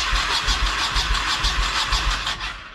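A car engine cranks and fires after repairs, with rhythmic starter pulses that settle into a running engine, loud and close, before it fades at the end.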